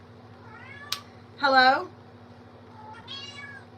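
A house cat meows once loudly at close range, with a fainter meow or two around it and a person calling out briefly.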